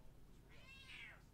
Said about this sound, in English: You'll hear the cat, too.